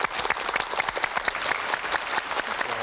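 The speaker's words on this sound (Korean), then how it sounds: "뜨거운 박수 부탁합니다." A studio audience on a Korean KBS music talk show welcomes a singer with warm applause, many distinct claps forming a lively, sustained patter at moderate level.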